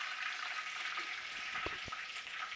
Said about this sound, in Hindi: मैं भगार लगाऊंगी इस पे।